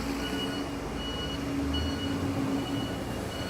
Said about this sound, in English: Unnecessary beeping, man.